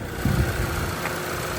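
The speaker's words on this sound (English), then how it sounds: "I've got the motor running as well too." A 2021 Hyundai i30 five-door hatchback idles with the engine bay open, giving a steady low rumble that holds evenly throughout, close by and with no voices.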